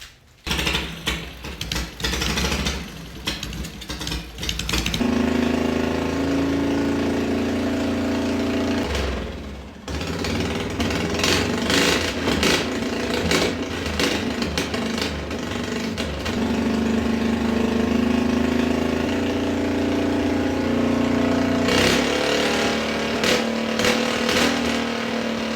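A racing lawnmower engine runs and is tuned on 93 octane fuel, a loud, rough, knocking idle that revs and surges, cuts out briefly near the middle, then picks back up, close by.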